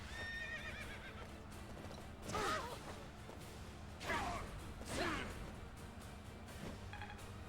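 Horse neighing and whinnying from Fire Emblem: Three Houses, with several loud whinnies and hoof clip-clops over game battle sounds and music.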